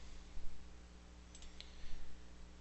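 Two or three quick, faint computer mouse clicks sound close by against a quiet background hum.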